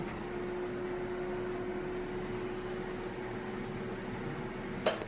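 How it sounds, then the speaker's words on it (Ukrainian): A bathroom ventilation fan running during a renovation, a steady, even hum with a faint whine held throughout, ending in a brief sharp click near the close. "Все, вентилятор там включається, все правильно."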